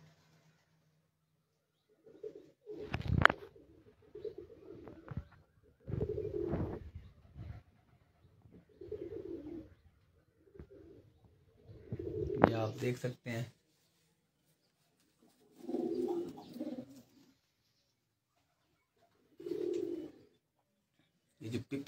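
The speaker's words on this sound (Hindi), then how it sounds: "ये जो पिपला वाले फिरोजपुरी जिन्हें कहा जाता है, तो वो कबूतर है यहाँ पर" Ferozpuri pigeons coo softly from a rooftop loft in Kandian, with several short, low cooing bursts spaced a few seconds apart in otherwise quiet surroundings, and someone speaking in between.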